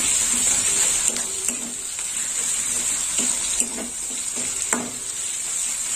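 Ground coriander-cumin paste sautés in a pan for chicken curry, a steady sizzle with intermittent soft scraping and tapping from stirring.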